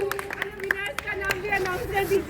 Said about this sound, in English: So huge round of applause to Isha.